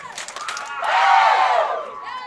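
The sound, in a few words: crowd cheering a bowling strike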